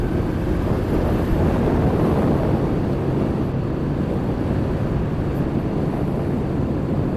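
A Honda PCX Roadsync scooter accelerating along the road, its engine drone buried under heavy, steady wind rush across the microphone, a constant roar with no breaks.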